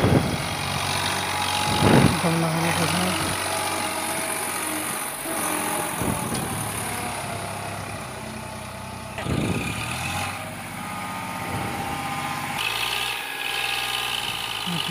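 A heavily loaded Eicher 548 tractor with a full trolley labours across a drain, its engine droning steadily with periodic surges and knocks, while voices talk over it.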